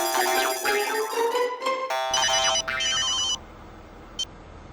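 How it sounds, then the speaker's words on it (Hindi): A phone ringtone plays a bright electronic melody in a shop. It runs for about three seconds, then stops, leaving faint room noise and one brief chirp near the end. "सेठ जी मेहता साहब को फोन करके पूछिए कहाँ पहुँचे।"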